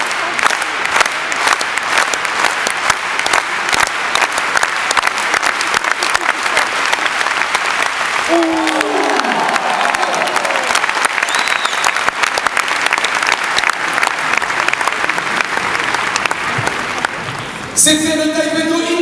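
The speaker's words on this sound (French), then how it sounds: "C'était le Taïk Beto, il mérite un tonnerre d'applaudissements." An audience at a martial arts demonstration applauds loudly and continuously, dense clapping from a large crowd with a voice briefly audible partway through and cheering near the end.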